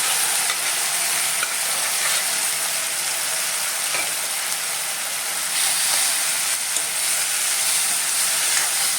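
Boiled cluster beans stir-frying in a pan with fried seasoning, an even, loud hissing sizzle with soft stirring scrapes throughout and no voices.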